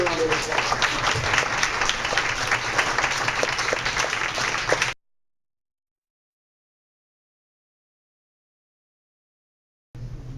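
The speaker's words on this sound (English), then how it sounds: "can we give them both a round of applause?" An audience at a debate on the Agua Hedionda South Shore Specific Plan applauds the two participants, a dense, loud wash of clapping for about five seconds, then silence, with the clapping briefly returning at the very end.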